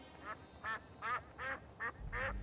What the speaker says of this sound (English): yeah, we got a duck sound now because the duck revolution happened.